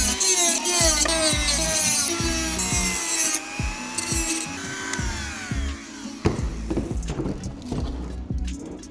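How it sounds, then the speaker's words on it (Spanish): A plastic welder pushes hot staples into a cracked World Rally Car bumper, giving close, loud, rhythmic scraping strokes with squealing, sliding tones as the plastic melts, alone with no talking. "ya me preparo aquí el soldador y vamos a meterle caña a fundir todas estas grapas"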